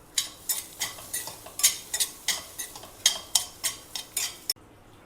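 Cooked rice with squeezed lime being mixed in a vessel, a spoon scraping and clinking in a steady rhythm of about a dozen close, sharp strokes, with no talking.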